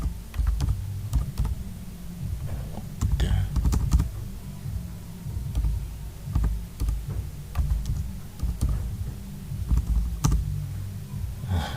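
Someone types on a computer keyboard, newly switched from an old one, with dense irregular clicks and key thumps running continuously for about twelve seconds at close range, with no talk over the keys.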